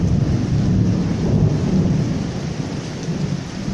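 Heavy summer downpour with thunder in Vällingby, Stockholm: a dense, steady roar of rain over a deep, rolling rumble that holds loud and unbroken throughout.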